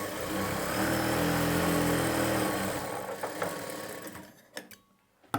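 Sewing machine stitching a blouse's main fabric and lining together, running steadily and close for about four seconds, then stopping, leaving a few faint handling clicks.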